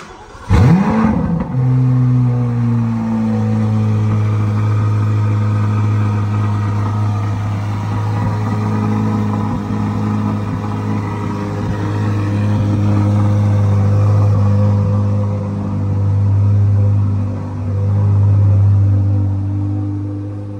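A street-legal Dodge Viper race car with a twin-turbo engine fires up and settles into a loud, deep, steady rumbling idle, with a few swells of revving near the end, heard close with no voices.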